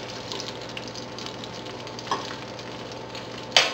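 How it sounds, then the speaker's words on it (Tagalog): Squid and shrimp frying in olive oil in a pan for seafood paella, a steady close sizzle with a few sharp pops and spits near the end. "sa pagpiprito natin ng isla at hipon"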